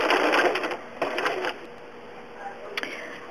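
Sewing machine satin stitching a fabric applique, with quick bursts of rapid needle chatter that stop and start. A soft voice comes in faintly between the bursts.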